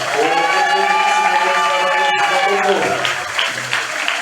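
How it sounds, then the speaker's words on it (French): Congregation cheering and acclaiming during a Sunday church service, a loud, continuous crowd roar with voices layered over sustained tonal sound, briefly dipping midway before swelling again. "Acclamons encore le roi du roi"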